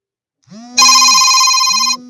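A telephone ringtone bursts out loud and close for about a second as one continuous electronic trill, with a voice briefly heard just before and after it.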